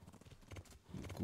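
Hooves of a horse in Kingdom Come Deliverance clop in a quick, steady rhythm, close and moderately loud, with no talking over them.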